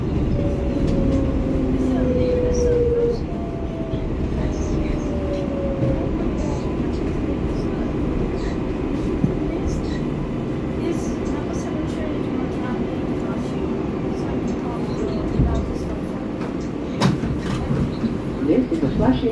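An R188 7 local subway train rolls toward Flushing Main Street, a steady loud rumble of wheels and car noise with faint rattles and a fading tone early on; an onboard announcement voice speaks throughout.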